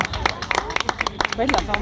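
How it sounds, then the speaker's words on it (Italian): Applause breaks out at an awards ceremony for young talent in Sicily, a small crowd clapping briskly and unevenly while a presenter keeps speaking over it. "un applauso"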